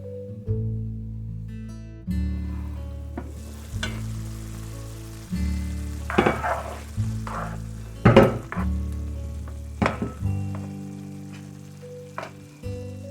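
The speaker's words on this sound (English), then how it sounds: "I'm going to cover this and let it cook for about 5 minutes so the noodles can get soft." Ground turkey pasta cooks covered in a single pan, giving a steady low sizzle and bubble broken by a few louder clinks and scrapes of the lid and utensils.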